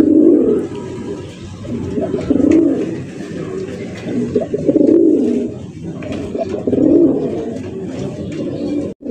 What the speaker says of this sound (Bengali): চাইনিজ আউল, চাইনিজ আউল কবুতর মাশাআল্লাহ।